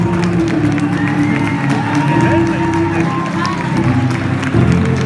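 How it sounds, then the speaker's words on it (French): Applause and cheering from a crowd at a children's fashion show at a fair, dense and sustained, with shouting voices and a sung melody running over the clapping. "Voici Princesse Héloïse, vos applaudissements."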